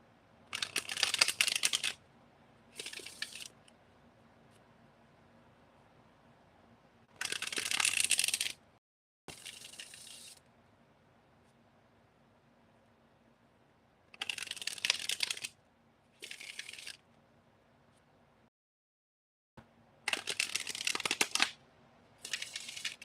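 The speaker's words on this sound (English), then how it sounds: "So let's give these cards a shuffle." Tarot cards are shuffled close up in several short bursts of crisp riffling and flicking, separated by quiet pauses.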